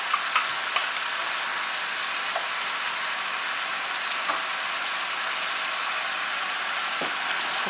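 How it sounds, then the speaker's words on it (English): Onions and celery fry in a pan, giving a steady, even sizzle and crackle throughout with a few faint clicks and stirring knocks, no voices. "Cook this down until the onions are opaque and the celery is"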